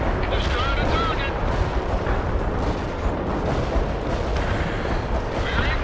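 Daisy cutter bombs explode in World in Conflict, a dense, sustained roar of blasts and rumbling with faint radio chatter and tonal effects layered over it.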